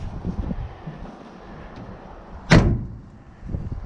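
The door of an old, abandoned Ford truck slams shut once with a sharp, loud thud, outdoors against steady wind noise and low rustling.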